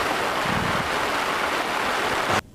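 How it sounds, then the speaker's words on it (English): Steady rain pours down close by in a broad, constant hiss with no pauses, then cuts off abruptly just before the end. "It's just a couple minutes of rain."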